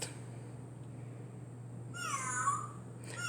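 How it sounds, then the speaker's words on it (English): Recorded cat meow from a toy animal sound puzzle, a single drawn-out electronic meow near the end, close and fairly quiet over a steady low hum, with no talking. "A kitty cat."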